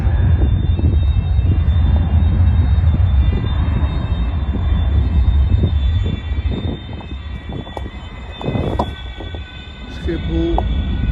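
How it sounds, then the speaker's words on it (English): A Boeing 737 airliner roars steadily at Schiphol airport, a loud sustained jet engine rumble that eases slightly in the latter part, with a voice speaking briefly over it. "There goes the 737."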